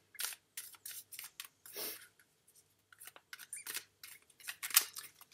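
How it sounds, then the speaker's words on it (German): Tarot cards being shuffled by hand, close and quiet, with a string of short papery riffles and slides broken by brief pauses. "Ich mische die Karten."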